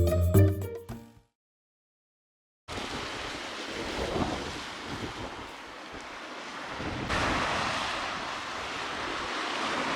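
Ocean waves surge over coastal rocks near sea caves, a steady broadband roar that swells louder partway through, following a brief burst of music and a moment of silence, with no voices.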